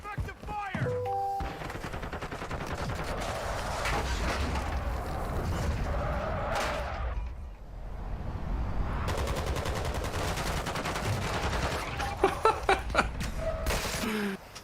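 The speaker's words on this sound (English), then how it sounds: "Taking effective fire." Gunfire in Warzone 2, a dense continuous barrage of rapid shots and booms through most of the stretch, with a short lull midway and a few sharper cracks near the end, while a voice talks over it.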